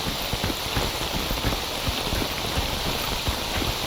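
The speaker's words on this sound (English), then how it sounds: "only because it is raining and I'm very limited on the audio cues of things approaching" Rain in the game STALKER Anomaly falls as a dense, steady hiss with scattered pattering drops, loud and continuous.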